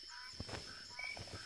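Geese honk in a video game, a few short nasal honks in quick succession, faint and thin over a steady background hum.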